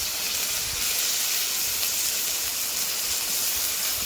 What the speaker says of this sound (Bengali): এখানে আমার পেঁয়াজ কুচিটা ভাজা হচ্ছে